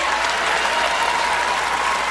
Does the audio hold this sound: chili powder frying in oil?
no